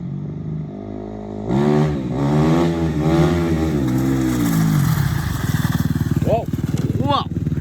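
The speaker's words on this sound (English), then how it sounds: "But here comes Tyler in a wheelie." Suzuki dirt bike engine revving hard during a wheelie, a loud buzzing rise and fall that swells, holds, then fades as it passes, followed by excited voices shouting.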